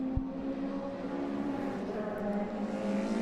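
A modified Ford race car circuits Mondello Park, its engine a steady, fairly loud drone with a slight pitch shift as it passes, with no voices over it.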